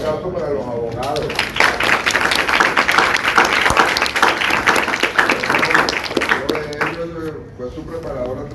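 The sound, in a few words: applause for the lawyers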